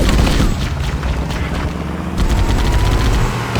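Dense, loud gunfire in Halo: Combat Evolved: continuous rapid bursts and booming blasts in heavy combat, a sustained roar with no voices.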